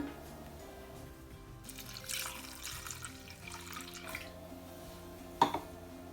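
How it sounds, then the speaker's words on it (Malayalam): Water is poured into a pan of kingfish curry with turmeric and salt, a soft splashing and trickling pour in a few bursts, fairly quiet and close, ending with a small clink and no talking. "കുറച്ച് വെള്ളം ഒഴിക്കാൻ പോവാണ്"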